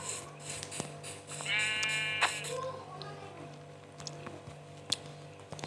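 Sheep bleating in the video game Minecraft, a few short nasal bleats at moderate level over a quiet background with faint clicks and light voice.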